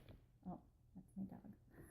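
A dog gives a few soft whimpers and whines in short separate bursts, close but faint, with a brief spoken voice.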